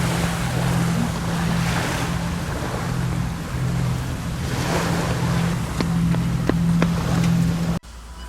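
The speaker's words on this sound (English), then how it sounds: "The sound of the waves arriving rhythmically to the shore." Waves wash against the shore at the Keppel Bay marina in Singapore, a steady broad surf rush with wind noise, a low hum, and a few sharp clicks near the end before it cuts off.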